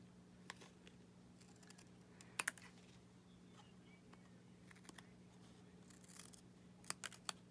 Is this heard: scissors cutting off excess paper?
yes